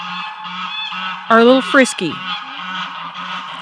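Geese honk loudly in a pen, a burst of harsh calls rising over a steady background of fowl chatter, while a person speaks briefly.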